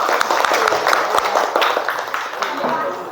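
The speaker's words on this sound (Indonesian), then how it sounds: "Beri tepuk tangan dulu." Classroom applause after group presentations, a dense and steady patter of many hands clapping at close range through the whole stretch, with no voices standing out.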